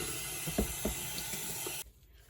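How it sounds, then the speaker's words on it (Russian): Warm tap water runs steadily into a sink while a cleaned pot is rinsed, with a few soft knocks of the pot, then the flow cuts off abruptly near the end. "споласкивайте кастрюльку под теплой проточной водой"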